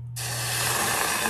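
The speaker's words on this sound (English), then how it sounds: "I'm going to put a cup of root beer into this saucepan" Root beer poured into a saucepan, a steady loud fizzing hiss that starts abruptly and holds for about a second, close and alone without talk.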